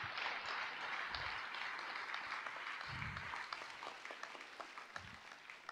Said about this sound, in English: Audience, please give a big round of applause to all our graduates.